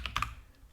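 Quick clicks on a computer keyboard while a formula is typed into an Excel spreadsheet: a short burst of three or four soft, close keystrokes followed by quiet.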